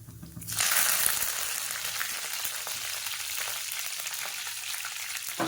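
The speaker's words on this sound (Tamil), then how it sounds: "அடுத்து ஒரு கால் ஸ்பூன் ஜீரகம் ரெண்டு வந்து பொரிய விட்டுக்கிறேன்" Cumin seeds and curry leaves spluttering in hot oil: a sudden close sizzle that starts loud and settles into steady frying crackle, with no voices.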